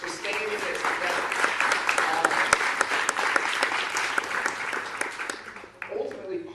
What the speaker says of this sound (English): I want to invite a round of applause for the coalition for staying in this together.